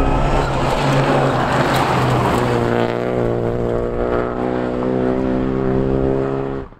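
A race car drives on a circuit, its loud engine holding a steady, strongly harmonic drone close to the microphone for several seconds before dropping off sharply at the end.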